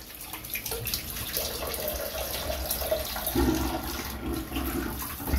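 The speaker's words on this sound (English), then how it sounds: "Go ahead and rinse off the head real quick." A shaving razor head is rinsed under running tap water, giving a steady, moderately loud rush of flowing water throughout with a slight shift in tone partway through.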